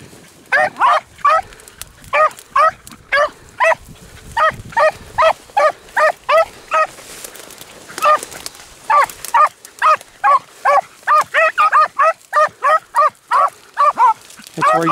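Beagles bay in a hot thicket while chasing a rabbit, a rapid, steady run of loud, close barks and yelps that carries nearly nonstop, with only a short lull partway through.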